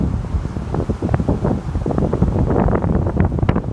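Strong wind from a post-tropical storm buffets the microphone in loud, uneven gusts, with low rumbling bursts throughout and no voices.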